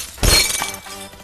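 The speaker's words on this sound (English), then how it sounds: "Break that glass dough." Glass shattering in the video game Happy Wheels, a single sharp crash with bright tinkling debris, close and loud, with music underneath.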